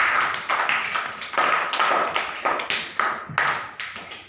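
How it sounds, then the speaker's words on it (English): Children in a school classroom clap for a classmate, a steady round of close, bright hand claps lasting several seconds with no talking. "Give a big clap to Shabana."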